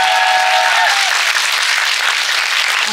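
At the Muju Sanggol film festival, the crowd gives loud, dense, continuous applause for a pianist, a close wash of many hands with a brief held tone at the start.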